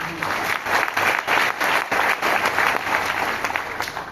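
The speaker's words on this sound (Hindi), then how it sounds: "इसके लिए जोरदार तालियां हो।" An audience at a Vestige marketing plan seminar in Delhi claps loudly and steadily for several seconds, a dense, even burst of applause filling the room.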